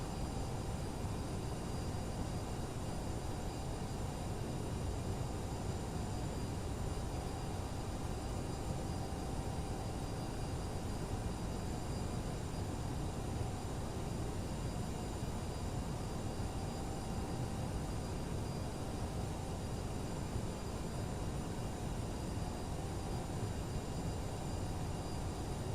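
Steady, droning engine whine of a CRJ-700 regional jet taxiing at Munich in Microsoft Flight Simulator, a continuous broadband roar with faint tonal hum, constant in level and alone without talk.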